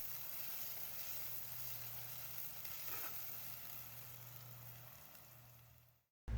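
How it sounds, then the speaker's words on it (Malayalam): Onions sautéing in a pan until brown, a steady close sizzle with a faint low hum underneath, running continuously before cutting off abruptly near the end. "അപ്പം നല്ല ബ്രൗൺ കളറായിട്ട് തന്നെ വഴറ്റിയെടുക്കണം"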